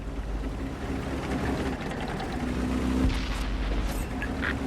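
A tank cannon firing with an impact explosion in World of Tanks on Xbox, involving a SARL 42 tank: a muffled boom midway over a constant rumbling engine background.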